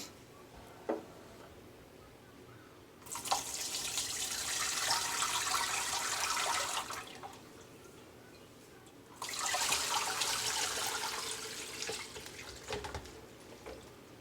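Kimchi brine drains and pours into a container to be saved for a mason jar, giving two steady splashing, trickling bursts of several seconds each, separated by quieter pauses, with no talking.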